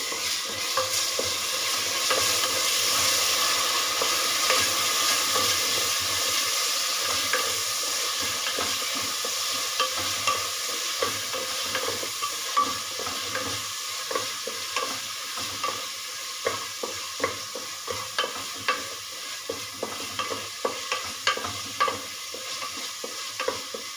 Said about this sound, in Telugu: పచ్చివాసన పోయేలా ఫ్రై చేసుకోవాలి